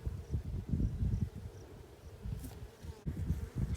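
Honeybees drone in an open hive, a close, low, pulsing buzz that swells and dips with faint handling rustles.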